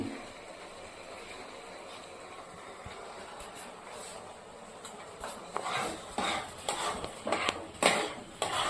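Semolina being stirred into grated carrot in a pan, with soft scraping at first that turns into louder, rhythmic clinks and scrapes of a utensil against the pan during the last few seconds.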